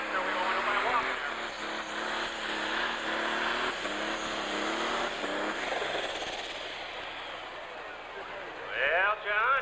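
A loud diesel pulling tractor engine drones continuously at a distance during a 10,000 lb Pro Stock tractor pull, its pitch rising and falling as it strains, with a voice talking over it.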